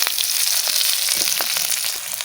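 Ground spice paste and potato pieces sizzling in hot oil in a pan for a Bengali rohu fish curry, a steady close crackle with small pops and faint stirring scrapes.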